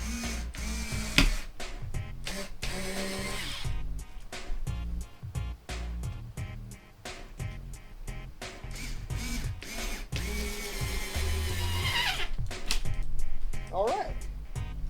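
A power drill drives screws into wood for a coffee table in repeated short bursts, close up, with brief pauses between and a voice speaking over parts of it.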